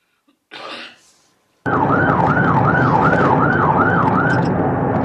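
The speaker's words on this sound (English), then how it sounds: "at that point you are playing, your sirens are heard" Police car siren on a recorded patrol video, a loud wailing tone rising and falling steadily over engine and road noise, starting abruptly after a brief muffled burst of sound.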